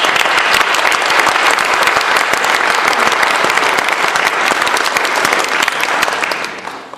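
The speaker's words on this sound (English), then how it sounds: "These folks deserve a hearty round of applause." A township historical committee audience bursts into loud, sustained applause, the dense clapping holding strong for about seven seconds before tapering off at the end.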